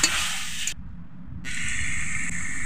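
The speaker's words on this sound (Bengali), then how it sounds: "দিয়ে 1 মিনিটের মতো কষে নেব" Cashew paste sautéing in a pan gives a close, bright hissing sizzle that cuts out briefly and then resumes steadily.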